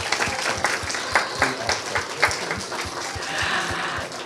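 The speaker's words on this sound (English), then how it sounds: "Maybe we can all give these three a nice big round of applause." A small group applauds with steady, fairly loud clapping and individual claps standing out, slightly distant, with faint voices mixed in.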